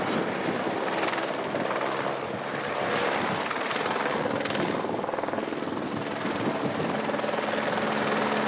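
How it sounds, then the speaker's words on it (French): Helicopter on a mail rotation from the Amsterdam Island base to the ship Marion Dufresne, its rotor thudding loudly and steadily with engine whine throughout. "c'est la dernière rotation d'hélico qui ramène le courrier des résidents à bord du Marion."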